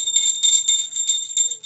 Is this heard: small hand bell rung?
yes